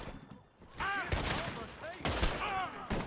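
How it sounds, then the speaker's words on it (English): Gunfire in a western-style video game, several sharp broadband shots spread across about three seconds, with voices and whistling tones mixed in between the blasts. "That dude just shot me in the head."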